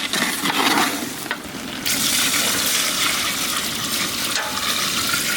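Water pours into a hot pan of duck curry cooked with chui jhal, setting off a loud, rushing sizzle and bubbling that swells and stays strong throughout, with no talk.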